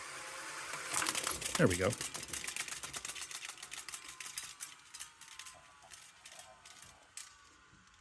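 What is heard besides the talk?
reel-to-reel tape machine stopping the tape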